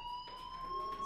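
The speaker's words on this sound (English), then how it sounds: "Hey, do you hear that fire alarm?" A fire alarm in the video game Life Is Strange rings as a steady electronic tone with bright sustained overtones, moderately quiet and unbroken.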